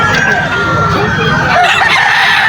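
A three-way cross gamecock crows loud and close at a busy pet market, its long drawn-out call standing over clucking fowl and steady crowd noise.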